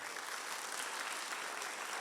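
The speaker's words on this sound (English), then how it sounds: "give these folks a round of applause" Audience applause at a middle school law swearing-in ceremony, a brief, even wash of steady clapping from a crowd.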